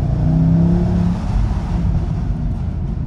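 A Mercedes-Benz E63 AMG W212 engine revs with a deep, loud, close rumble, its tone climbing briefly before settling into a steady low drone.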